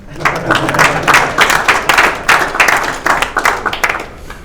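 Audience applause for British Horseracing Authority handicappers at a Cheltenham Festival 2022 handicap weights event, a dense burst of clapping from a room full of people, loud and close, fading slightly toward the end.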